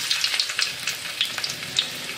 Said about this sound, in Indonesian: Kita tumis jahe